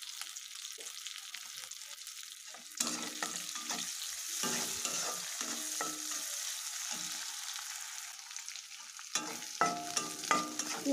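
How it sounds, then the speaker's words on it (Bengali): Onion and green chilies frying in mustard oil, a quiet sizzle that grows louder partway through, broken by spatula scrapes and stirring knocks, with sharper clatter toward the end. "পেঁয়াজটা ভালো মতন ভাজা ভাজা করে দিচ্ছি।"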